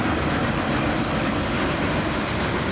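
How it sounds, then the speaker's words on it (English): A Norfolk Southern freight train passes at steady volume in South Point, Ohio, its railcars rumbling and clattering continuously and loudly without a break. "There's the 129 train."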